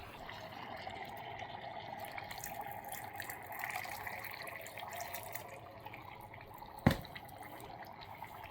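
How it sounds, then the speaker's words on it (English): Water runs and trickles steadily into a Baro flameless cooker, a faint continuous pour ending with a sharp knock near the end. "In fact, I'm gonna put more water in it."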